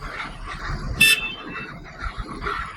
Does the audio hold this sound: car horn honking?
yes